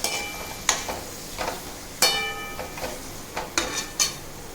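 Chopped tomatoes stirred in a pan for a Kathiyawadi brinjal and potato curry, heard as a series of sharp, close spoon-on-pan clinks and scrapes at irregular intervals over a faint background, with no talking.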